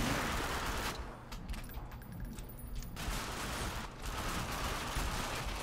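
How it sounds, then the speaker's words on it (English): Rapid gunfire in The Darkness 2, dense sustained bursts of shots aimed at the player, loud and continuous with a brief dip in the middle. "Who the fuck is shooting me?"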